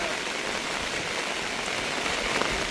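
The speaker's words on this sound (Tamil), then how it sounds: "ஒரு காற்று தாளமுக்கத்தால் தான் இந்த மழை பெஞ்சு கொண்டிருக்கு" Heavy rain driven by wind from a low-pressure system pours onto a beach in Jaffna, a dense, steady hiss of drops striking sand and water with no break and no voices.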